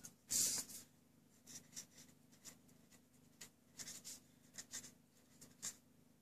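Pen scratching across paper in short, quiet strokes with brief pauses, close and soft, written while making a craft card with new stamp colours.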